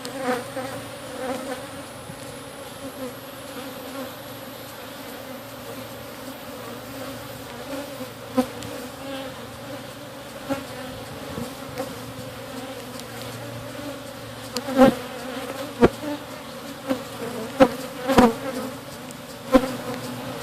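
Honeybees buzz steadily around an opened hive during a colony split, a close, continuous drone with a few sharper knocks and bumps toward the end.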